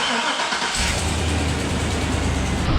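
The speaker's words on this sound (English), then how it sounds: "Start it for about 30 seconds and then shut it off." A 2005 GMC Sierra pickup engine cranks and catches, then settles into a steady loud rumbling idle, heard up close with no voices.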